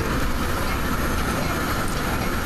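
Metra BNSF commuter train in rush hour, heard from the cab/control car, rumbling steadily and loudly along the rails with continuous wheel and track noise and no speech.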